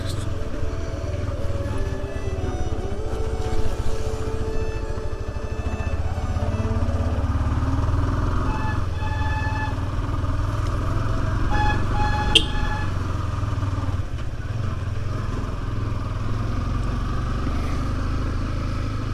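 A Yamaha R15 motorcycle on a Sunday ride, its engine droning loud and continuous throughout with wind and road rumble, shifting pitch slightly as the bike moves along.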